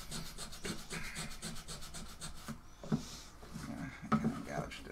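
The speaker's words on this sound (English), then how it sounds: "we're going to try to take off some of the graphite with sanding" Sandpaper rubs back and forth over burned wood to lift graphite during pyrography, a quick rhythmic rasping close up that pauses briefly before a few more strokes, with speech in between.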